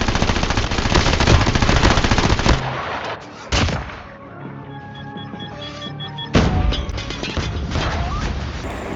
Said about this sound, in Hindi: फायरिंग भी चल रही थी, बॉम्ब भी मेरे ऊपर फेंका जा रहा था